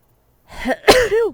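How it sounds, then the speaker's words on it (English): A single sneeze, loud and close, with a short wheezy intake before the sharp burst and a brief trailing voiced tail, in an otherwise quiet room. "I'm going to sneeze again, sorry."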